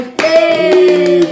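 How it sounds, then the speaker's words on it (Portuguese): A family gathering for a grandmother's 60th birthday claps loudly and close by, with scattered hand slaps over sustained singing voices for just over a second. "Para a menina Mana, uma salva de palmas."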